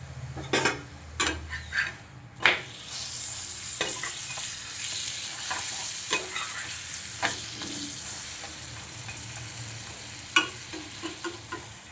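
Spinach paratha frying in butter on a pan, a steady close sizzle with repeated sharp clinks and scrapes of a spatula pressing and turning the bread, occasional louder knocks against the pan.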